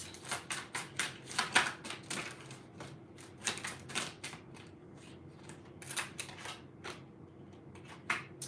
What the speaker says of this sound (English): then I'm going to pull my other tarot deck. Give me 3 cards on pile number 2, Shadow.